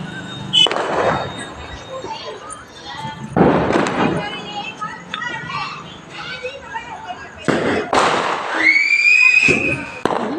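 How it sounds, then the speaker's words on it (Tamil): Loud firecracker bangs burst out a few times in the open street during the Karthigai Deepam festival in Tamil Nadu, with children's voices and chatter around them. "சத்தத்தை பாருங்கள் வெடி"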